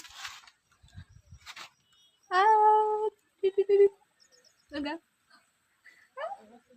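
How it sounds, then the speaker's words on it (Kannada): An all-black puppy whines in several short, high-pitched cries separated by pauses, close by, with a little talking around it. "ನಾಯಿ ಮರಿ ಐತಿದ ಕ್ಯೂಟಿಗೆ"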